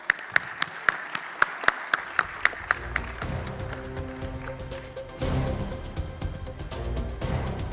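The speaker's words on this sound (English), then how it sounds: "that deserves a huge round of applause" Audience applause at the national finale of an Indian Army quiz, opening with a few sharp, evenly spaced claps that swell into a fuller crowd clapping, with a louder burst near the end.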